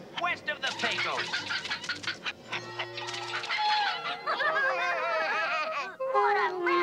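Cartoon chickens cluck and squawk in a busy, overlapping burst, with animated vocal effects and music-like tones woven through, loud and continuous for several seconds.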